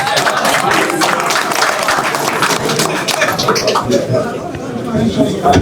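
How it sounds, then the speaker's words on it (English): An audience applauds throughout at the official unveiling of the Super Eagles football coach, a loud, steady wash of clapping mixed with crowd chatter and voices. "Let's applaud them."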